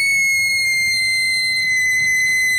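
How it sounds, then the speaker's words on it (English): A woman's sustained high-pitched scream in a Thomas the Tank Engine story, one long, loud, piercing note held steadily without a break. "She screamed so loud and so long that windows broke all over town."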